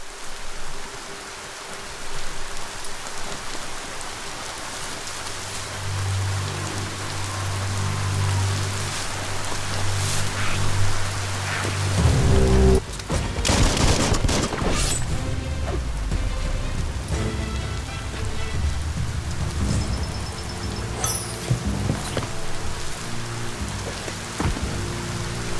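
Steady rain pours down in the Biomutant game world, a dense, even hiss of drops on surfaces with a brief louder gust of splashing midway, heard alone without voices.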